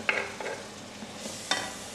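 A mixture for an African dish cooks in a pan, a soft steady sizzle with a few scraping stirs and clinks over it, nearby.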